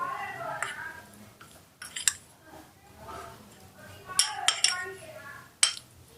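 Ingredients being mixed into flour in a bowl, with irregular clinks and scrapes of a spoon against the dish, some sharp and some soft, over quiet room sound.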